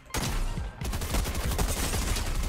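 Rapid gunfire in Fortnite, a loud close stream of shots starting abruptly and continuing with a brief gap, then steady fast rattling to the end.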